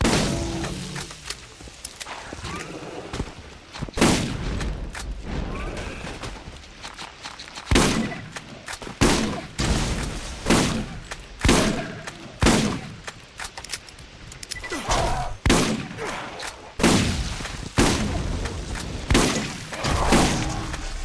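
Borderlands gunfire: loud, sharp shots crack out in irregular bursts and single blasts, sometimes fast, with thuds and shattering impacts between them.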